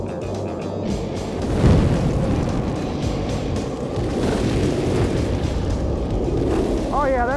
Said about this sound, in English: Luke, can you turn on that propane for me? Just crank her open